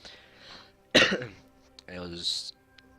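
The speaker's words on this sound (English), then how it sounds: "you may hear me cough here and there" A single harsh cough bursts out, followed by a throat-clearing rasp and a brief vocal sound, near and fairly loud in a quiet room.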